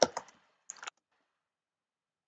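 Computer keyboard typed on during a maths lesson: two short clusters of quick clicks close by, then silence.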